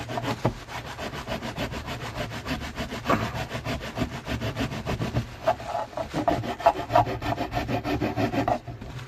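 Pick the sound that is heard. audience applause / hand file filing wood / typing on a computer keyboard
hand file filing wood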